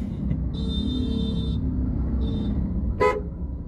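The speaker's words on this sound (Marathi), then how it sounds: "चारी बाजूने वाहने येतात" Low traffic rumble on the Mumbai-Goa highway at Kankavli runs throughout while a car horn toots twice, a longer blast then a short one, followed by a brief sharp honk.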